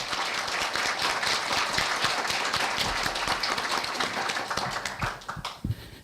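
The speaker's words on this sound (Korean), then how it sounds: "다 같이 큰 박수 부탁드리겠습니다" A crowd applauds steadily at a university professor's retirement ceremony, with dense, continuous clapping that tapers off toward the end.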